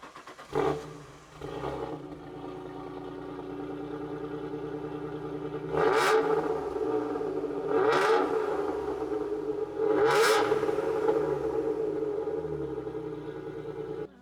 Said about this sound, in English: Busso V6, best engine, best sounding engine ever.